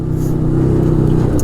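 A 1000 cc V-twin engine on an Arctic Cat Wildcat 1000X side-by-side holds a loud, steady rev up close. The drone is even and continuous, with no speech over it.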